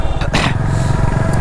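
A Royal Enfield Classic 350cc motorcycle engine runs with a close, steady low thumping rumble, loud and unbroken for the whole moment.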